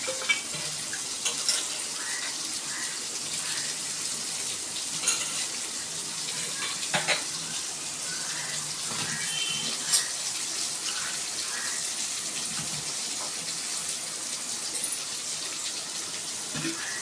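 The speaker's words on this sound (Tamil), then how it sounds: "இப்போ மறுபடியும் தண்ணி ஊற்றி நல்லா க்ளீன் பண்ணி சுத்தம் பண்ணிக்கலாம்" Running water splashes steadily over raw chicken being rinsed, with soft sloshing and occasional clatters close by, and no talking.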